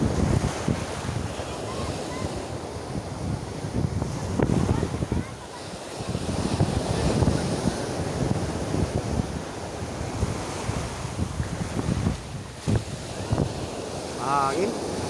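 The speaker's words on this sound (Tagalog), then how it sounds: "Hangin, mahangin." Heavy wind roars against the microphone beside crashing surf, a loud continuous rush with gusty swells, and a voice speaks briefly over it.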